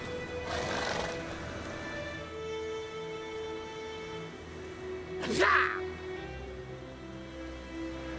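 Roach, Geralt's horse in The Witcher 3: Wild Hunt, lets out a loud whinny that stands out above the background game music and ambience.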